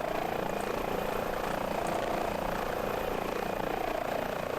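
An H145 helicopter in Microsoft Flight Simulator runs with a loud, steady turbine whine and rotor drone, constant and unbroken, with no talk over it.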